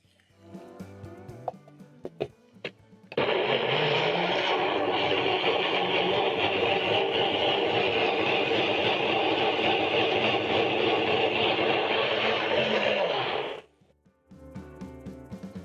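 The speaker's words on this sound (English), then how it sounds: "Cover and blend into a puree." Two large tomatoes pureed in a covered blender: a loud, steady motor whir runs about ten seconds without pause, starting and stopping abruptly, with quieter kitchen clatter before and after.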